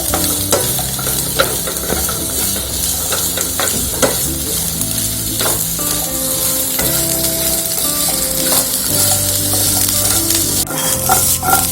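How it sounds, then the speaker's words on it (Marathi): Baby corn frying in oil in a wok, a steady loud sizzle with intermittent scraping and stirring clatter throughout, no voices. "थोडंसं तेल टाकायचं कढईत आणि हे जे कॉर्न आहे ते आपल्याला फ्राय करून घ्यायचे."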